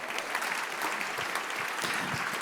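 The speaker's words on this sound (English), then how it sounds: "Let's give them a round of applause." Audience applause welcoming newcomers at a leadership breakfast event, a steady, fairly dense round of clapping from a room of people throughout, with no talk over it.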